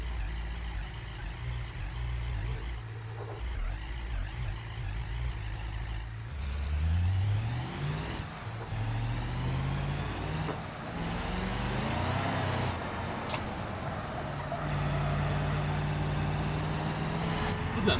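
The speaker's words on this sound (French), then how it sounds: "C'est une voiture de drift." A drift car in the BeamNG driving game revs and drones steadily, its engine pitch sweeping up and down through gear changes across a continuous, fairly loud run, with no talk heard.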